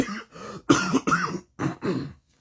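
A run of several throaty coughs and throat-clearing bursts in quick succession, close to the microphone, ending in silence.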